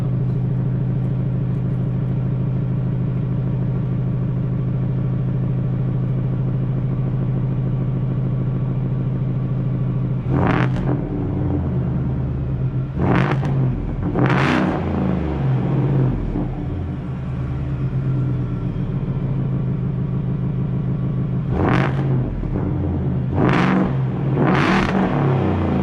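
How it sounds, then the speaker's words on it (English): Shelby Super Snake V8 roaring through a loud 3-inch dual exhaust: a heavy steady idle rumble broken by four sharp, close revs, two near the middle and two near the end. "Let me get a couple revs."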